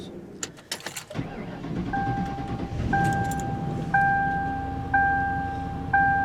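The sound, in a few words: 2004 Grand Marquis car engine starting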